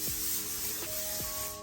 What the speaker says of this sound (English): I sprayed some spray on it because I don't have a wax stick